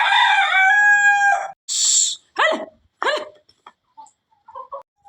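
A rooster crows loudly up close on a chicken farm, followed by several squawking, agitated chicken calls and a few softer clucks, with short silences between.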